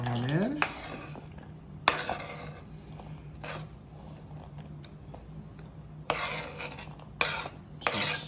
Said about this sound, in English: we're just gonna scoop our onion